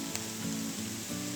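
Onions and ginger sizzling in sesame oil in a pan, a dense steady hiss and crackle with no talk over it, fairly even in level throughout the short stretch.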